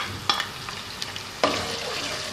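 Ginger frying in hot oil for ginger chicken, a steady close sizzle with two sharp stirring clatters.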